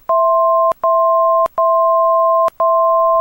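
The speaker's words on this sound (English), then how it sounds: "There we go, there are the tones to warn us" A KAP140 aircraft autopilot sounds its altitude alert warning in an aircraft: a loud, close, steady two-tone beep repeating in evenly spaced bursts with brief clicks between, alone without talk.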